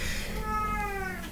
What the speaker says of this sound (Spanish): unos gatitos que me vienen a visitar